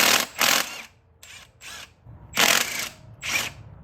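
A power tool spinning off the starter bolts on a Saab 900, heard as several loud, close whirring bursts of about half a second each, separated by short quiet gaps and faint mechanical rattling.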